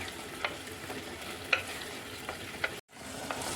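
Chopped tomatoes softening in hot oil in a pan, giving a steady sizzling hiss with a few sharp spatula scrapes and stirring clinks, nearby, ending in a brief moment of silence.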